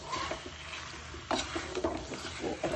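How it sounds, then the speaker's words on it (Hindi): Mutton being fried and stirred in a pan for Rajasthani Laal Maas with Mathania red chillies, a steady close sizzle under repeated scraping strokes of a spoon against the pan. "अच्छे से आप भूनिए मटन को"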